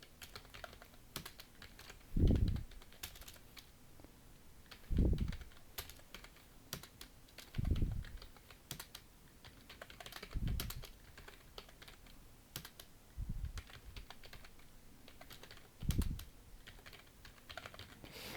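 Computer keyboard typing during a PowerPoint exam exercise, with repeated Shift and Enter keystrokes: a steady patter of quiet key clicks punctuated by six louder, heavier thuds at regular intervals of about two and a half seconds, with no talking.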